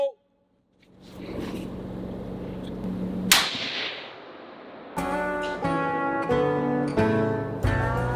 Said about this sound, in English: So that's my Savage 30-06, what I used to hunt with in PA.